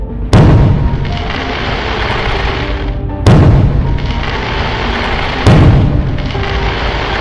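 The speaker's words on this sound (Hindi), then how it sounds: "ये एक स्काई शॉट है और ये ऊपर जाके फटने वाला है" Diwali sky-shot firework bursts overhead as three heavy, loud booms spaced about three seconds apart, each with a sharp onset and a long rumbling decay, with no voices.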